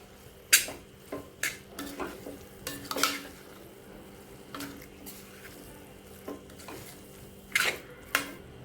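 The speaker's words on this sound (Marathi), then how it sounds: "आपल्याला हे पनीर जे आहे ना ते सगळं मिक्स करून घ्यायचं" Paneer burji is stirred and mixed in a pan, with soft scraping and intermittent clinks of a spatula against the metal under a faint sizzle, quiet and close.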